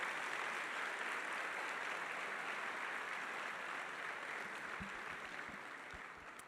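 A church congregation applauding its deacons, a dense, steady wash of many hands clapping throughout, evenly sustained and slightly distant, fading a little near the end with a few soft knocks.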